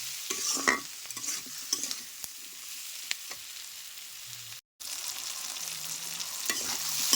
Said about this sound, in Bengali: এখন আমি এগুলো দিয়ে বেশ খানিকটা সময় কষিয়ে নেব।